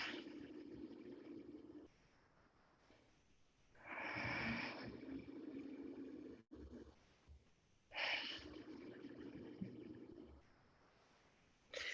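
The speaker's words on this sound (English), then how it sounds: "the Ujjayi sound, which sounds like the ocean" Slow Ujjayi yoga breaths drawn through a constricted throat, each one a soft, ocean-like rushing hiss that swells and fades in long, even cycles, close to the microphone with no talking.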